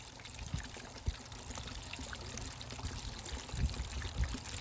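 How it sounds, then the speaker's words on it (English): Water washing gold-bearing dirt down a sluice trough, a steady pouring and trickling flow with a few small splashes, close and continuous. "Everything's in the trough. I'm going to let that wash down just a minute."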